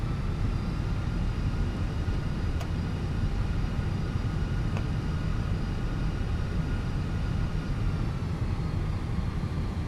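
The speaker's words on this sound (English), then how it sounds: "You need so much more thrust just to get the aircraft moving." Airliner engines in Microsoft Flight Simulator, an Airbus A320-class jet at Denver, spooling up for takeoff: a steady, loud broadband roar with a deep rumble and a faint high whine, holding even for the whole stretch with no talk.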